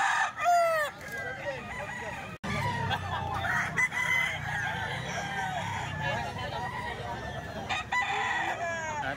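A Milsim Gray rooster, a local banded gamefowl, crows once loudly near the start, followed by clucking and farmyard fowl noise while someone talks over it.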